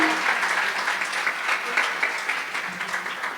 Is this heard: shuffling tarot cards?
no